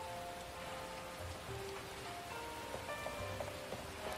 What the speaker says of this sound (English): Wow, there's rain effects.